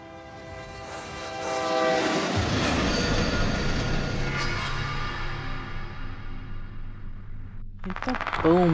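A train rumbles loudly and steadily in the horror video game The Secret Elevator, building from a quieter start into a sustained roar, with a brief horn-like tone near the end.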